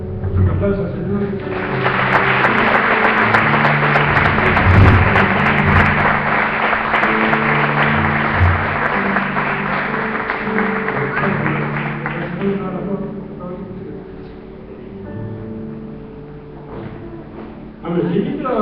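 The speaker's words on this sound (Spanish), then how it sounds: "Un aplauso al Señor." A church congregation claps together over soft instrumental music during a Spanish-language service, a dense burst of applause that swells quickly, holds for about ten seconds, then dies away and leaves the music alone.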